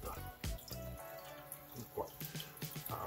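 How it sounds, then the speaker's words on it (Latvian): Water streams from a split old rusty hose in a basement, a steady close gush with scattered clunks and a brief low voice-like sound over it. "Re, kāds strautiņš skaists. Tas nozīmē to, ka šļauka ir pušu tajā vietā."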